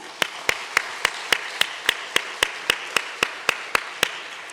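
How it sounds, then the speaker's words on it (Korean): A church congregation claps for its Sunday school teachers, the claps landing together in a steady, evenly spaced rhythm, about fifteen sharp beats in a row with a soft room wash between them. "우리 모든 교우들은요 그들을 위로하는 거 격려하는 마음으로 우리 박수 한번 하겠습니다."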